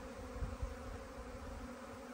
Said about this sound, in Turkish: Arılar iyice gerçekten dağıldı.